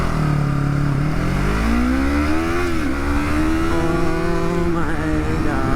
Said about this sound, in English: Practice some rev matching while on the front brake.